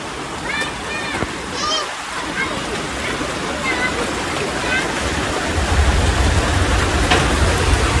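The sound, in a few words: heavy rain falling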